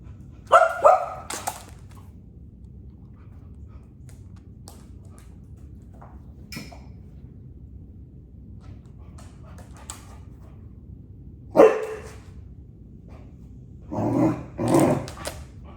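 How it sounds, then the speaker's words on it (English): A dog named Sage gives a few scattered barks, far off and faint, in a quiet room, with sharper clusters near the start, middle and end. "I heard a little barking."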